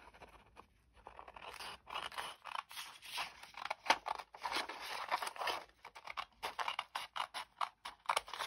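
Scissors cut through a sheet of vellum in quick bursts of crisp snipping and rustling, with brief pauses between the cuts, close and clear with no talk.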